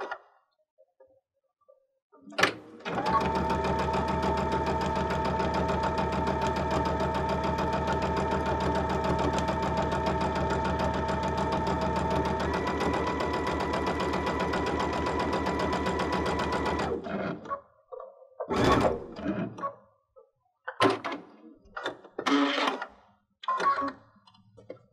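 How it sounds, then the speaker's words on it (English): Sewing machine fitted with a walking foot stitches fabric in one steady, loud, rapid run of about fifteen seconds, then stops, followed by a few brief clicks and handling noises. "now let's try sewing in the opposite direction again."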